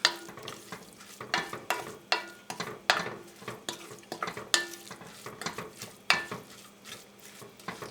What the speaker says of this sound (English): I'm just going to sweat these onions and carrots a little bit.